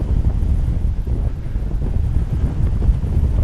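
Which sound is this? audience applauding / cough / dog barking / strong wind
strong wind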